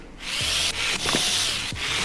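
A dental drill in the VR game Titans Clinic whirs loudly and steadily on teeth with hard plaque build-up, with brief dips and surges in pitch, close up and without talk.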